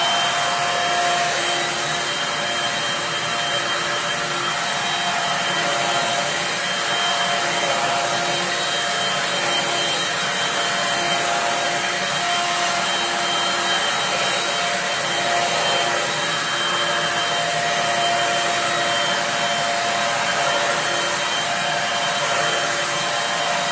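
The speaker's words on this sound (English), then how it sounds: "So there's the Dirt Devil" A Dirt Devil stick vacuum cleaner running on high speed, a loud, constant, even whine and airflow roar, unchanging from start to finish.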